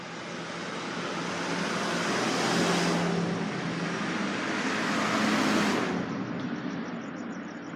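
Road traffic rushes past steadily, a broad continuous roar that swells twice as vehicles go by, fairly loud and close with no voices over it.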